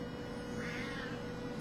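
A cat gives a single short, faint meow indoors over a steady background hum.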